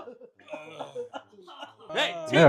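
Someone in an office coughs hard several times in a row. The coughs are close and grow louder and rougher toward the end, with throat clearing and voices in between.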